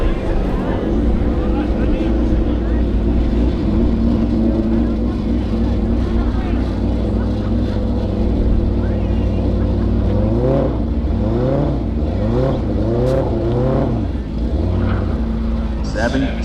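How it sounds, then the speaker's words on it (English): Several drag racing motorcycles rev hard in the burnout box at Toronto Motorsports Park, a loud continuous engine roar with rising and falling pitch sweeps toward the end, under a commentator's voice. "Seven bikes in the burnout box now."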